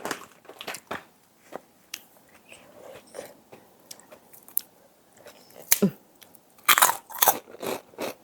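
Crispy Thai pork rinds with fat crunched close up in repeated sharp bites and chewing bursts, growing denser toward the end, with quiet talk in between.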